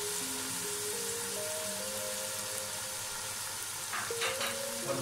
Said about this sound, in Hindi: और इन तीनों चीज़ों को तेल के साथ फ्राई करूंगा एक दफा सही से।